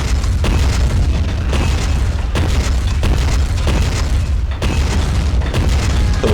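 Tank cannon fire and explosions boom in the Army Men of War battle game, a blue super tank trading shots. Heavy blasts land repeatedly about once a second over a constant loud rumble of battle noise, with no talking.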